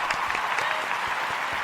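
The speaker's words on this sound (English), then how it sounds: "Let's give a round of applause for Mr. Tyree." Audience applause at the close of a talk show segment, a steady dense wash of clapping throughout, close and fairly loud, with no talk over it.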